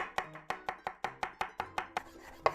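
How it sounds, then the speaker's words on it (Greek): A knife chops fresh spring onions on a board in about a dozen crisp, evenly spaced strokes, close and clear with no talk. "Κόβουμε 2 φρέσκα κρεμμυδάκια"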